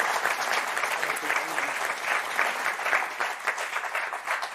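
A game show studio audience applauds the winning pair, dense steady clapping from a crowd throughout, loud and unbroken.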